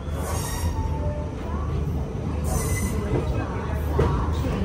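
Andaman Express train standing at a New Delhi railway station platform, a steady loud rumble of rail noise with brief hissing bursts, crowd murmur and voices mixed in throughout.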